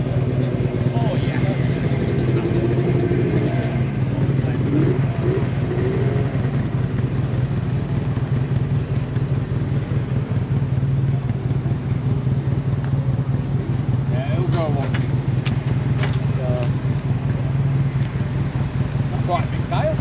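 A vintage motorcycle at a classic motorcycle show at the British Commercial Vehicle Museum runs loudly and steadily at close range for the whole stretch, while people talk nearby over the engine.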